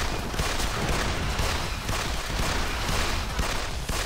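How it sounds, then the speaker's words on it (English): Shotgun blasts and heavy gunfire in the video game Assault Gunners HD, a relentless, dense wall of shots and explosions with no pauses, steady and loud throughout. "I'm using my shotgun"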